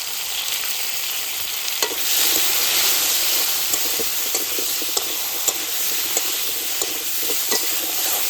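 Vegetables with turmeric and salt fry in mustard oil already used for frying silver carp, giving a close, steady sizzle broken by scattered crackles and stirring clicks, with no talking.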